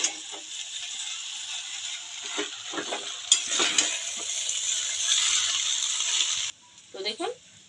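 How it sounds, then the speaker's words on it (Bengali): Chow mein noodles and vegetables are tossed and stirred in a hot pan, giving a steady close sizzle with bursts of scraping and clattering from the utensil that fall silent briefly near the end. "এবারে চাউমিনের সাথে সবজিগুলো একেবারে ভালো করে নেড়ে চেড়ে মিশিয়ে নিচ্ছি"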